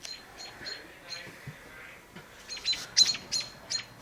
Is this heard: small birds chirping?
yes